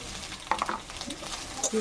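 Ginger-garlic paste, chili, black pepper and turmeric powders stir-fry in a pan for a fish curry, with a brief scraping stir and sizzle over a couple of seconds.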